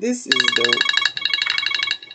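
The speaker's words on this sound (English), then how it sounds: "That's my alarm telling me to eat." A phone alarm ringtone sounds as a loud, fast repeating electronic melody of bright beeping tones that runs to the end, after a brief spoken phrase at the start.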